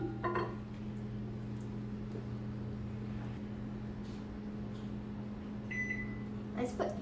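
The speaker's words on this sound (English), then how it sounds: "So I'm going to put the 2 bars in the microwave again because we cannot see the waves" A microwave oven runs with two chocolate bars inside, producing a quiet, steady electrical hum, with a few light clicks and a short electronic beep near the end.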